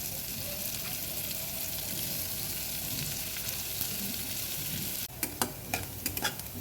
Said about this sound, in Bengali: এখন আমি পেঁয়াজটা দিয়ে দিচ্ছি